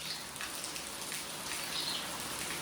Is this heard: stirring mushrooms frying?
no